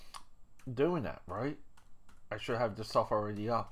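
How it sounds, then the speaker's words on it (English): Clicking keystrokes on a computer keyboard tap along beneath someone talking close to the microphone, the typing quieter than his voice. "I know I'm typing and I shouldn't be doing that, right?"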